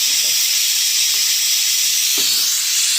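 Loud, steady hiss of steam escaping from a pressure cooker whistle, continuous for the whole stretch, with a couple of faint knocks in the background.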